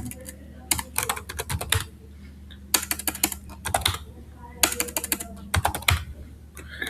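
Rapid bursts of keyboard typing while code is entered in VS Code, close and crisp clicks arriving in several clusters separated by short pauses.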